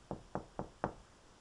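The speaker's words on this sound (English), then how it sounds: "suddenly there came a tapping," Four evenly spaced knocks on a chamber door, soft and hollow, tapping in a quick steady rhythm against a quiet background with no voices.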